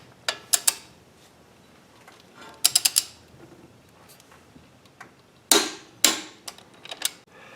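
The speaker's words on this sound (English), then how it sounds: "we're going to go to crisscross pattern over here when we're tightening this down" Sharp ratcheting bursts from a socket wrench tightening clutch pressure plate bolts to 64 foot-pounds in a crisscross pattern on a rear-wheel-drive car, coming in three short clusters of clicks separated by quiet gaps.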